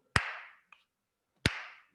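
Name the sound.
hand claps marking the beat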